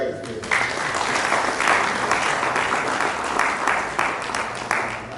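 Audience applause at a university faculty symposium, many hands clapping at a steady, fairly loud level for several seconds after a brief voice at the start.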